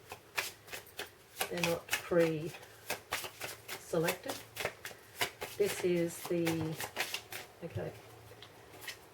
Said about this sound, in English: I just decided to film the card shuffle so everybody can see the cards are shuffled and put into place.